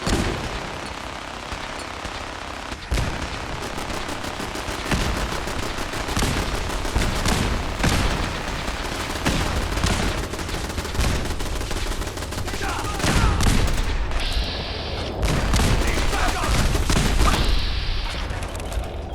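Machine gun fire in Fallout 4: sustained rapid bursts of automatic gunfire, loud and close, continuing with short breaks, with some talk.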